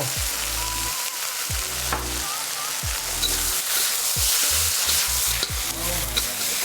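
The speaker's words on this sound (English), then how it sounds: "After stir frying the green onions for 30 seconds" Loud sizzling of green onions being stir-fried in a wok, with repeated scraping and clanking of a spatula against the metal.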